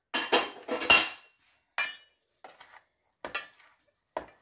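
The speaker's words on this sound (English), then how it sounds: "give that just a quick mix" A utensil briefly stirs flour into sweet potato souffle batter in a bowl, giving a few quick clinking and scraping bursts separated by short silences, close and moderately loud with no talk.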